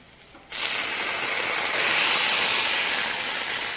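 Butter hits a hot pan of sautéed sweet potatoes and erupts into a loud, steady sizzling hiss after a quiet start, holding strong and close for several seconds.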